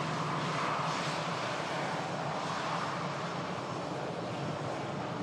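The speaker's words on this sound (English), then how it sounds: "the Ryanair from Malaga has just taken an intersection, and as you can see there now on the roll" A Ryanair jet from Malaga rolls down the runway for takeoff at Manchester Airport, its engines a steady, broad roar heard from a distance without any break.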